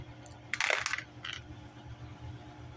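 Scatter dice clatter onto a tabletop wargame battlefield during a World War II miniatures game, a quick cluster of sharp hard clicks and rattles followed by a fainter tumble over low room noise.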